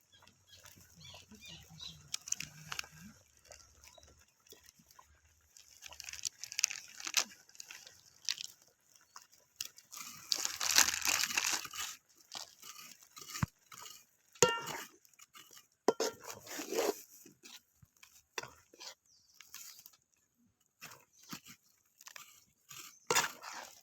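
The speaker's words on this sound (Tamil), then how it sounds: "இப்போ வெல்லம் சேர்த்துக்கலாம்" Jaggery added to a pot of cooked milk kozhukattai dumplings, with scattered crunchy clatter and scraping against the pot at close range, followed by stirring noises. There is no speech.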